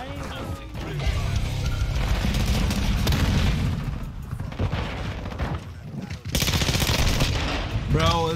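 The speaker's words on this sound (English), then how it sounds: "Bro got a rocket launcher." Rocket launcher blasts and rapid gunfire from a video game pound continuously, loud and dense, with a brief drop before a fresh burst near the end, while a voice talks over it.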